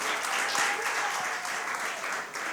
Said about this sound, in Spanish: Si va a aplaudir, aplauda de verdad.